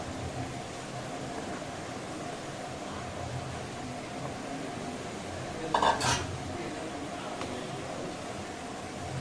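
Boiled, peeled and hand-mashed potato being mixed with vegetables for cutlets, a soft steady stirring under a constant hum of background noise, with one brief louder clink of a utensil against the bowl near the middle.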